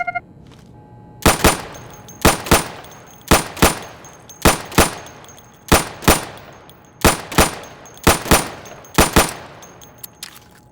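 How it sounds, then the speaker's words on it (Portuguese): Pistol fire from an M45A1 at wooden targets in the video game Insurgency: sharp, loud shots spaced fairly evenly, mostly in quick pairs, about sixteen in all, with short silent gaps between. "quando você tá atirando de arma secundária"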